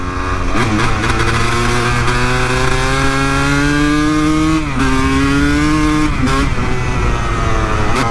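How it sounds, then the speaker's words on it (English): Motorcycle held in a wheelie, its engine loud and close with a sustained rising roar, small throttle dips and a sharp drop near the middle before climbing again. "I always forget how raw this bike is"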